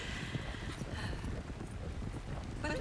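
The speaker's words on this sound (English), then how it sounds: "And people hear the thundering of those hooves, they're going to get out of your way." Horses gallop in the Western video game RedM, hooves pounding in a dense continuous clatter with wind-like noise, mixed under a faint voice.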